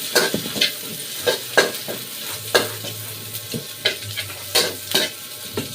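Chopped onion frying and sizzling in oil in a home-kitchen pan, with a steady background hiss broken by repeated sharp scrapes and clinks of a utensil stirring against the pan.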